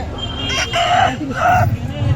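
A black chicken at a village haat livestock market lets out two loud, close crowing calls over a busy market background, with voices nearby.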